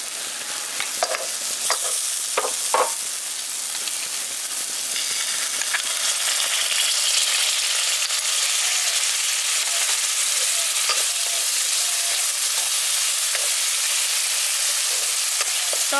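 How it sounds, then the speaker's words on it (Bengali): Spice masala with beaten yogurt sizzles and fries steadily in a pan for a village-style Asian sea bass fish curry, with a few scraping stirs early on over a constant loud hiss. "টক দইটা দিয়ে আবারও ভালো করে মিশিয়ে দিয়েছি"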